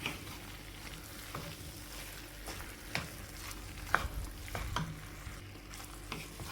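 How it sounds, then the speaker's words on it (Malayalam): A spoon stirs boiled potatoes into a frying masala for an Onam potato dish, scraping and tapping against the pan in irregular strokes over a soft, steady sizzle. "പുഴുങ്ങി വെച്ചിരിക്കുന്ന പൊട്ടിട്ട് ഇതിലേക്ക് പൊടിച്ചിട്ട് ചേർത്ത് കൊടുക്കാം"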